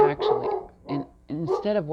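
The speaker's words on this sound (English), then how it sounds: "Like Alpha barking right now" A dog barks in short repeated bursts nearby, loud yelping woofs separated by a brief pause, with a person talking around them.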